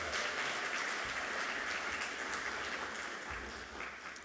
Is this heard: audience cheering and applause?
yes